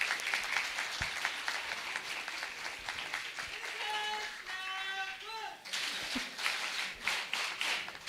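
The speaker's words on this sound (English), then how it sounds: "we want to clap for you guys for doing such a fabulous job" An audience at a college social-work award festival claps steadily and loudly throughout. Voices talk over the applause, and a short whistle-like tone rises partway through.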